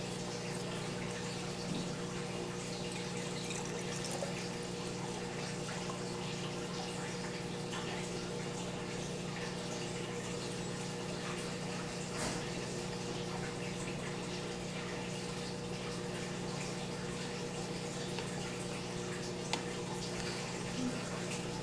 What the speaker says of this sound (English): So now with the fresh water, I'll do the same and fill them up until they overflow just a little bit.